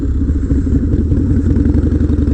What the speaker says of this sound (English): Always keep the RPMs as high as you can, because that's what these bikes like when they're drifting